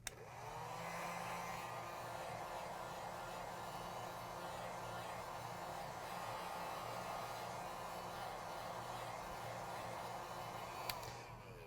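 A hot air tool blows steadily to heat an iPhone 6s screen, a continuous close, even whoosh of rushing air that holds unchanged for the whole stretch, with no talk.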